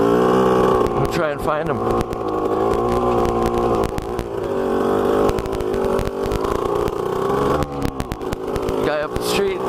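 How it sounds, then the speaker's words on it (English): Two-stroke off-road engine, likely a four-wheeler or dirt bike, drones loudly and continuously close by, its pitch rising and falling as it revs and passes, while someone speaks briefly over it. "I hear a four-wheeler or something."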